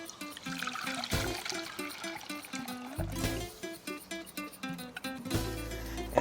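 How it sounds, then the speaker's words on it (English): Just-off-the-boil blanching water tipped out of a pot in a kitchen, a soft splashing trickle and pour with faint clatters, fairly quiet and uneven, coming in a few surges. "After a couple of seconds, we'll want to tip off that water"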